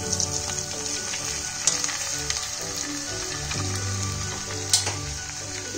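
Pasta sizzles in a hot pan for a white sauce pasta dish, a continuous close frying hiss broken by a couple of sharper clinks as it is stirred.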